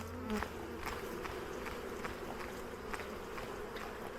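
Soft, steady buzzing of many bees close by, with a few faint taps and knocks scattered through.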